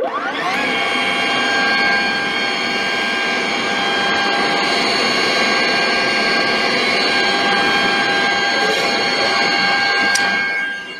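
A Pacojet food processing machine runs continuously at close range, giving a loud, steady high-pitched motor whine with a broad rushing hiss that holds level throughout before easing at the end.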